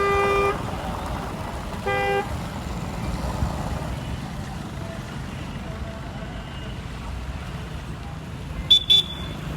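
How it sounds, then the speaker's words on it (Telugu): Short toots of a Tata Bolt car horn sound at a dealership over steady background noise and faint talk, with a double beep at the start, another around two seconds, and a quick higher double chirp near the end. "హారన్ హారన్ కొట్టు."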